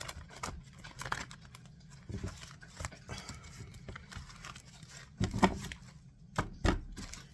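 Soft, irregular riffling and tapping of tarot cards being shuffled up close, with a few louder slaps near the end.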